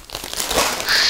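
A plastic bag holding a model steam locomotive rustles and crinkles as it is handled close by, in one short continuous burst.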